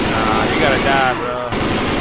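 Rapid automatic gunfire from the video game Left 4 Dead 2 rattles in a fast, continuous burst, loud and close, with a voice talking over it before a brief cut and the shooting resuming.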